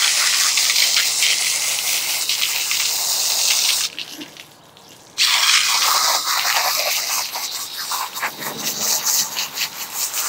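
Garden hose spraying water through a CFMOTO air filter being rinsed clean, a steady broadband gush that cuts out briefly for about a second midway, then resumes with a choppier, splashing spray.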